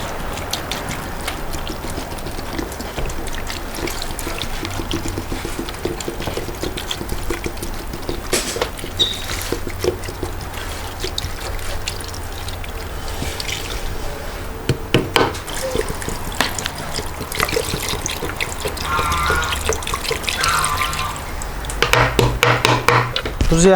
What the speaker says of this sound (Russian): Друзья, я налил туда 3 литра воды, чтобы получить побольше бульона